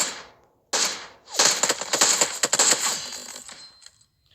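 An SLR rifle firing in PUBG Mobile: a short opening blast, then a dense stretch of rapid, crackling shots close up, which fades out into quiet.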